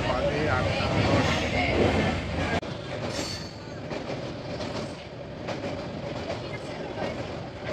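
A train rolling along rails at night, a continuous rumbling rattle with faint clickety-clack and squeal, heard from inside the carriage with voices in the background.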